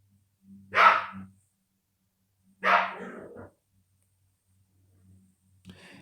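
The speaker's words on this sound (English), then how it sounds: "You hear my dog getting at it over there?" A tiny dog of about 3.5 pounds barks in two short, sharp bursts from across the room, moderately loud with a pause between them and a faint yip at the end.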